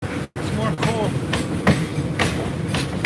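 Coal-laden freight train passing nearby, continuous rumbling rail noise with periodic wheel clacks, a voice talking briefly over it.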